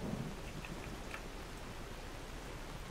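Rain in the video game Enderal, a Skyrim total conversion mod, a dense even hiss of falling rain with a faint low rumble, steady and without talk.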